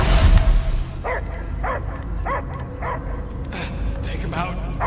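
A dog barks repeatedly in the Guardians of the Galaxy video game, a series of evenly spaced barks over a low rumbling game soundscape, with an impact or burst at the start.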